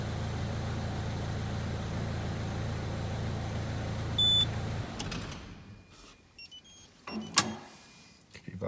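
A 2010 Citroen Dispatch van's engine runs with a steady low rumble, then cuts out after a short beep, leaving a few faint clicks and small mechanical knocks in near silence.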